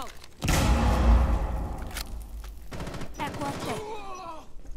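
Loud bursts of rapid automatic gunfire in the Rainbow Six Siege shooter game, a sustained fusillade followed by shorter volleys and a whoosh, with game effects trailing off at the end.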